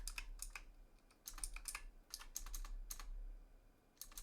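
Quick bursts of computer keyboard typing, close and fairly quiet, clicks coming in short irregular clusters with brief pauses between them, no speech.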